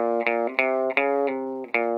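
Electric guitar picks out a rockabilly Christmas riff in bright, distorted notes: a handful of crisp plucked attacks that ring and sustain between strikes, played alone.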